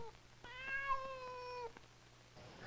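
A cat on a power pole lets out one drawn-out, clear meow lasting about a second, heard alone against a quiet background with a faint low hum.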